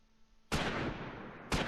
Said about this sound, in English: they are shooting at my HMG half-track